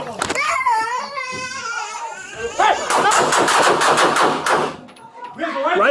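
Rapid gunfire from a police shooting at a home where a man armed with a rifle was shot by LAPD officers, a dense burst of loud shots mixed with shouting and agitated voices.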